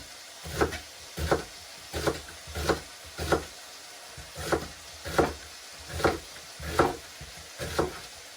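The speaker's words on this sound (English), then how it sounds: "Right, then I'll put the onion in." Onion cooking in a pot with browned beef for stew, heard as a slow, regular series of about a dozen scraping stirs over a faint sizzle, close and fairly quiet, with no voices.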